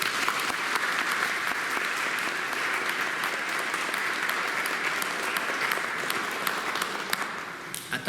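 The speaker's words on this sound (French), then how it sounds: "Vous pouvez les applaudir." Applause from a church congregation at a Catholic mass fills the space, a broad, even roar of many hands clapping for about eight seconds with no letup, then easing slightly at the end.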